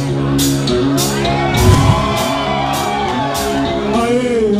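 A concert crowd at a tribute show shouts and cheers loudly and continuously, with a few whoops rising above the roar of the audience.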